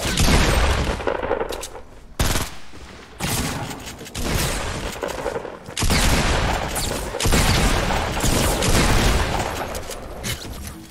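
Dense, sustained Fortnite gunfire during a high-ground build fight, loud bursts of rapid shots and booms packed together with only brief gaps, continuing steadily throughout.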